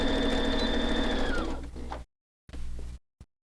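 A sewing machine runs close and steady while backstitching a boxed bag corner, then slows and stops, followed by two short stitching bursts and a brief mechanical click.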